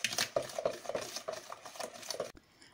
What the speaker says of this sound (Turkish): Karışımımızı krema kıvamına gelene kadar çırpalım.